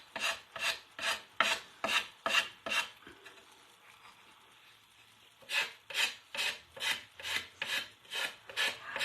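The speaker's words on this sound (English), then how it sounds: "Let me see if I can get this to sand off." Sandpaper rasps back and forth over a painted decoupage craft piece, a steady run of loud, rhythmic strokes close by, then a short quieter pause before the brisk rubbing picks up again.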